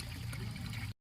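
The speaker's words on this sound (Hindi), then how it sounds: "गौमुखी से बेतवा नदी निकल रही है" Water of the Betwa river pours from a cow-mouth spout at its source near Bhopal, making a steady, close gush for about a second with no voices.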